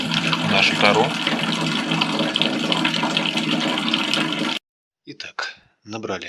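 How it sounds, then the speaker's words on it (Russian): Water pours steadily into a plastic canister for several seconds with a hissing, gurgling rush, then stops, followed by a few short splashes and clunks. "Наливаем воду в нашу тару."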